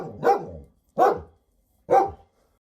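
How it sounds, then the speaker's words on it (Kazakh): A dog barks three times in an even rhythm, each bark sharp, close and loud, separated by brief silence. "Ит."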